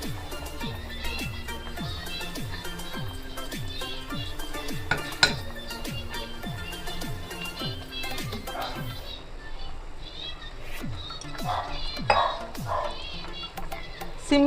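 Ragi flour is added to a pot and stirred, giving rhythmic repeated scraping and clinking of a utensil against the pot, steady strokes over the full length with faint background noise.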